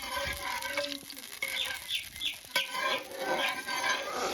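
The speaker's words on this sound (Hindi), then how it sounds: "अभी जो टमाटो प्यूर है इसको भी हम फ्राई कर लेंगे इसी तेल में हल्का सा" Tomato puree frying lightly in oil left over from frying mushrooms, giving a soft, steady sizzle with faint stirring scrapes and a few brief tonal chirps over it.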